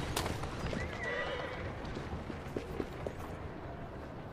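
Horse neighing with clip-clopping hooves in the Assassin's Creed Syndicate video game, set in Victorian London, a whinny early on over a steady busy background of game ambience and scattered hoof and wheel knocks.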